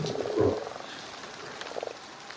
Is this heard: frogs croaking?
yes